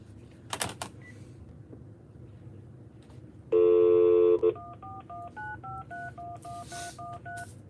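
A run of telephone keypad tones dials a phone number: a long steady tone burst, then a rapid sequence of short evenly spaced beeps at changing pitches, clear and close over a quiet room background.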